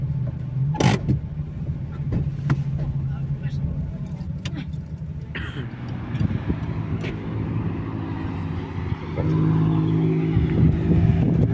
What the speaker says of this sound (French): Ça fait beaucoup de voitures quand même